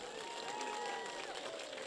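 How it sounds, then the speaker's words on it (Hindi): A crowd at a big Lok Sabha election rally for the Barmer-Jaisalmer seat in Nokhda applauds and cheers, producing a dense, continuous wash of clapping with voices mixed in. "अब मैं थाने जोरदार तालियां बजाओ"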